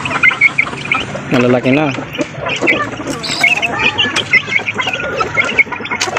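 Mother hen with her three-week-old chicks of the brown red and golden boy sweater breed, clucking and cheeping close by in a busy, continuous chatter, with brief talk among them.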